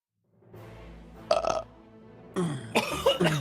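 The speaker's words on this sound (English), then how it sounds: "Whoever is burping multiple times in their mic, please mute yourself" Several loud, close burps into a microphone, one long rumbling belch followed by sharper, harsher ones near the end.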